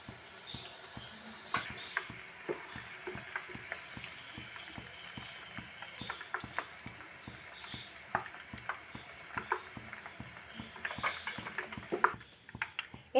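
Cauliflower pieces for gobi manchurian frying in oil, a steady soft sizzle with frequent clinks and scrapes of a utensil turning the pieces in the pan, fairly quiet and close.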